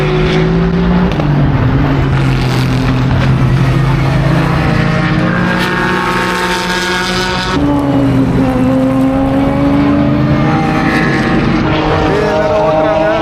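A race car driving on a track in Dubai, its engine droning loudly and continuously with rising and falling pitch as it passes, heard close and steady throughout.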